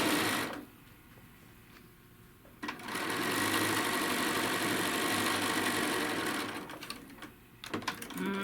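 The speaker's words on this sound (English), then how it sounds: "We'll stitch right through our quilt tack" Home sewing machine stitching a quilt block seam through a quilt tack and an X of star points: a brief quieter run, then a long, loud, steady whirring stretch that slows and stops near the end.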